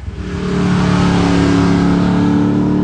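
A car engine close by, starting from an idle that quickly builds into a loud, sustained rev with a steady rumbling drone.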